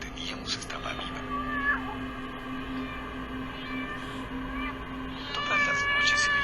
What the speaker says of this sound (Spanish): Todas las noches se oía el maullar de los felinos en brama.